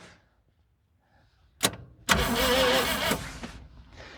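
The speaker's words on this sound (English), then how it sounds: "So let me grab a different battery so we can get some good cranks on this guy." A 1960 International B120 truck engine cranks on a borrowed battery, with a short burst followed by a longer grinding crank of about a second, loud and close, then trailing off.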